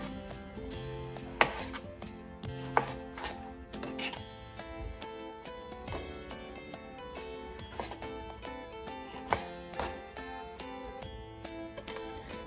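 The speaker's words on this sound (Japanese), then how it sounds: "プルーンを適当な大きさに刻んで鍋に入れていきます。" A knife chops prunes on a cutting board for a Polish prune jam. The taps are soft and irregular and land over steady background music, with a few sharper knocks standing out.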